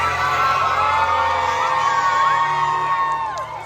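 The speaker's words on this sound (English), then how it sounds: "keep the applause going for Princess Tiana" A crowd cheers, whoops and shouts loudly and steadily at a Halloween character show on a Disney cruise ship as the princesses are introduced, with bright, sustained voices carrying throughout.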